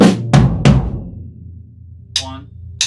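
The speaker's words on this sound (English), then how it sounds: "Now the right hand paradiddle, we're going to split between tom 1 and floor tom." Right-hand-led paradiddle fill split between tom 1 and floor tom: three loud, close tom strokes in quick succession, then a ringing decay and a short softer sound near the end.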